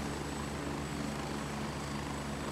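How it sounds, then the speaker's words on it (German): Helicopter rotor drone in the Gray Zone Warfare game, a steady broadband whir with low thumping held evenly throughout, no voices. "Aber wir hören Hubschrauber."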